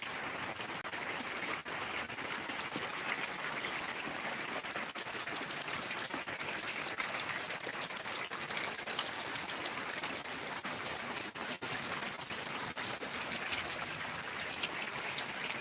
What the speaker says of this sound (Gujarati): તો બહુ ધોધમાર વરસાદ પડે છે